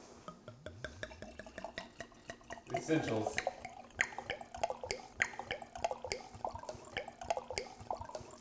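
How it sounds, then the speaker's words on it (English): A glass being filled for a cook making simple short ribs, a brief burst of pouring liquid around the third second, set amid ongoing speech and light kitchen clatter. "go ahead and pour you a glass."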